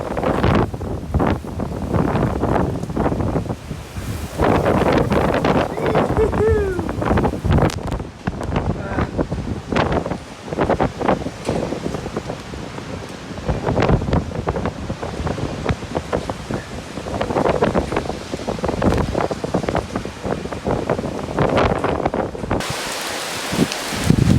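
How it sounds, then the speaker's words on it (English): Strong hurricane wind roars and buffets the microphone in a mountainous outdoor setting, loud and continuous with gusting surges and rustling throughout. "a huge amount of wind"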